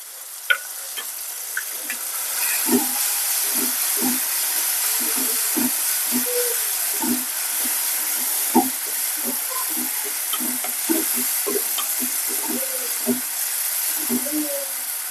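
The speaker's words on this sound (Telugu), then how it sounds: "బాగా వేయించుకోవాలి ఎర్రగా దోరగా వేయించుకుంటే రుచిగా ఉంటుంది" Pounded onion and chili paste fries in a pan for a spinach dish, a bright steady hiss with many short spatula scrapes and taps in an irregular rhythm, close and moderately loud.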